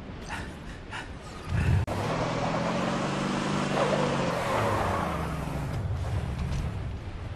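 A rocket hog vehicle from a video game drives along with a continuous buzzing engine drone, led in by a few short knocks and a sharp click. The engine then rises and falls steadily.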